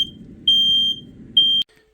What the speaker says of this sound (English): and there goes my smoke alarm.